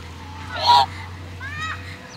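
Two short goose honks, the first louder and nearer, the second softer, against a steady low rumble at Bukit Jelutong Eco Community Park.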